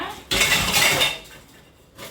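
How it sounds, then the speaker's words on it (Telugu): Dishes are scrubbed and washed by hand in a home kitchen, with clattering steel pots and utensils and a burst of scraping and rinsing noise close by, followed by quieter handling and another brief clink. "ఎక్కువ గిన్నెలు ఉంటాయి సో నేనే తోముకుంటున్నాను అనమాట"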